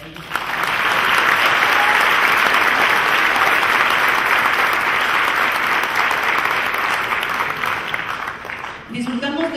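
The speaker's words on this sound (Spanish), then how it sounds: "Les pedimos un aplauso para ellos." Sustained applause from a large audience at the closing ceremony of a national science and technology congress, loud and steady for about nine seconds before fading out abruptly near the end.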